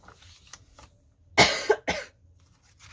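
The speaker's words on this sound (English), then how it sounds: "I've inhaled something. It's making me cough." A person coughs two or three times in quick, harsh bursts, close and clear against a quiet room.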